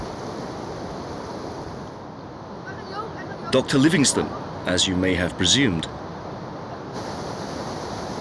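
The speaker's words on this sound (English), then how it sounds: "The waters roar, the mist in the air and the rainbow indicate we're getting closer." Steady, broad roar of the most powerful waterfall on Earth, in Zambia, with mist in the air, heard close and continuous while someone speaks briefly over it.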